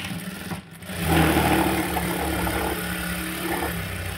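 Sewing machine stitching fabric lining runs steadily with a continuous whirring hum after a brief clunk at the start, close and even throughout.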